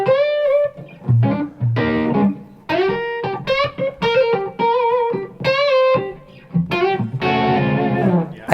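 Electric guitar, a 335, playing bluesy licks, bright sustained notes with bends and short phrases, mildly overdriven, played alone without talk.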